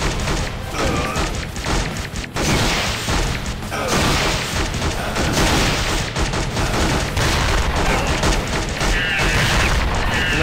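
Gunfire and explosions in the video game Metal Commando make dense, continuous shooting bursts and booms, loud and steady throughout with no voices over them.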